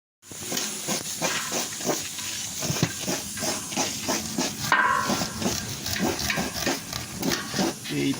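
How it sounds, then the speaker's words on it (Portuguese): A kitchen blender grinds cut corn for curau at a corn festival, a loud, continuous whirring churn with a rough, pulsing rhythm from start to finish. "E a gente bate o liquidificador."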